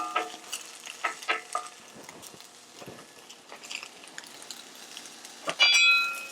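Ginger and carrot are stirred and fried in a pan for a vegan buckwheat dish, with green onion going in: steady sizzling under repeated light utensil scrapes and taps, ending in a louder burst of frying.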